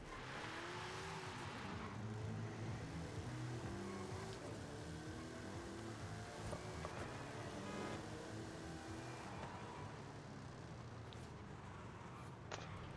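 A 1969 Pontiac GTO Judge lapping the Horizon Mexico circuit in Forza Horizon 5, its engine droning steadily and loudly throughout with rising and falling revs over a constant rushing noise.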